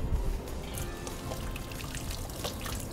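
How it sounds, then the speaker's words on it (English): Tap water pours and splashes steadily in a home kitchen sink while hands are washed, a continuous trickling stream with small irregular splashes and clinks at moderate volume. "Let's wash my hands."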